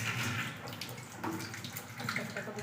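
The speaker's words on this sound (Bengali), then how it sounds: "এখন আমি এগুলোকে একটা একটা করে ধোবো, ধুয়ে এগুলোকে বেশ ছাড়িয়ে নেব। দেখুন আমি এখান থেকে ধুচ্ছি" Giant taro leaves being washed under running tap water, a continuous close splashing gush with irregular surges as the leaves are handled, no talk.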